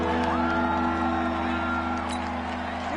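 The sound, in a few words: stadium crowd noise in a video game football match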